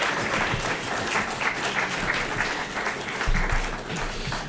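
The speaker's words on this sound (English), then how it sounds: "So give yourselves a round of applause." Audience applause at a fan convention live stream following a game show segment, steady dense clapping filling the room for several seconds with no talk over it.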